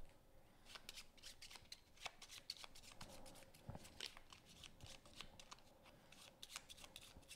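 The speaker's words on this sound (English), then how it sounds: "You really don't need to shuffle 4 cards that much." A small stack of about four playing cards shuffled during a card game, quick quiet riffling and sliding strokes repeating steadily, close and soft, with no talk.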